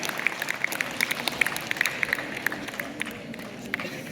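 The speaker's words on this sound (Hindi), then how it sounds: "जोरदार तालियां।" A crowd at a sports honors ceremony applauds the Haryana team, with loud, steady clapping of many individual hand claps that runs evenly throughout and fades slightly toward the end.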